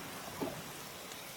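Steady rainfall from a scene in the 1980 horror film Friday the 13th, a soft continuous hiss with a faint brief bump, low in level and without voices.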